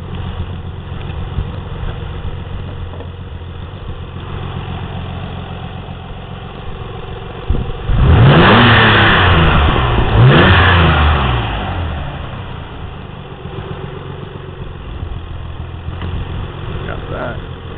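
Nissan 300ZX twin turbo engine idles, then revs twice in quick succession before settling back to a steady idle, loud and close with the hood open; a voice speaks briefly.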